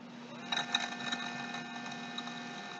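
An e-bike hub motor, wired to its Hall sensors during a repair, whines with a steady tonal hum once the throttle is pulled. It runs faint and even, with light ticking over the top.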